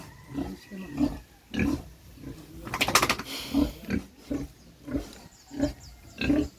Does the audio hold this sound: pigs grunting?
yes